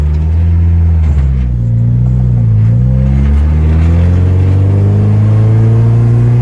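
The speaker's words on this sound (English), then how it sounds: "Car sounds good." A home-built car's engine running and revving loudly up close, a steady low drone rising and falling in pitch as the throttle is worked, with no talking.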